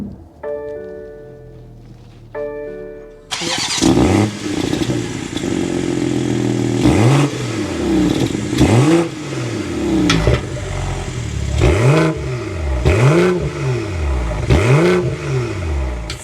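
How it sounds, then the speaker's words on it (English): Soft chimes sound inside a 2023 BMW X3 M40i before its engine fires with a sharp starter burst, then settles into a loud exhaust note with a series of repeated throttle blips rising and falling. "start it up so you can hear that exhaust note"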